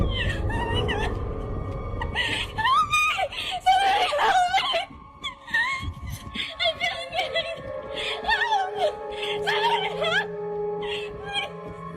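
A woman screams and wails in high, strained bursts while being followed, her cries rising and falling across the clip amid muffled noise and other voices.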